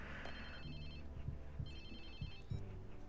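A phone rings inside the Watch Dogs 2 video game, a repeating electronic ringtone pattern heard over steady in-game background sound and low rhythmic thumps.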